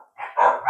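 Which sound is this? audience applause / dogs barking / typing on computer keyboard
dogs barking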